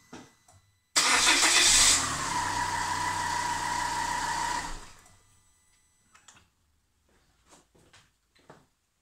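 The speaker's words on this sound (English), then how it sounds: "All right, I will gonna start this car." A small car with a 1.6 petrol engine, boosted by a NOCO GB70 jump starter, cranks and fires up loudly after a brief pause, revs for a few seconds, then drops away, followed by faint clicks and handling sounds.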